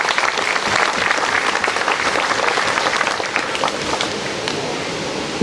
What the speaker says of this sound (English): Please join me in a hand of applause.